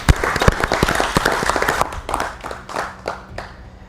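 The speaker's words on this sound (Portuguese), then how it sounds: "Uma salva de palmas ao doutor." Applause from a studio audience on a Mozambican talk program, a burst of dense clapping that breaks into a few scattered, fading claps.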